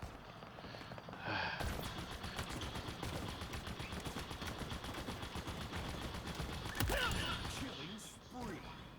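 Dense, continuous gunfire from the video game Halo Infinite, rapid bursts layered over one another at a steady, fairly loud level with brief sharper shots, under a player's occasional breathy sounds.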